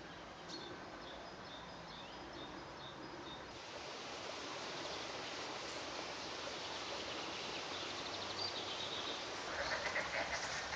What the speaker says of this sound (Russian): Лягушки заплакали.